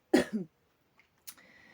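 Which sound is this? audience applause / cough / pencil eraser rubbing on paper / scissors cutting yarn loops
cough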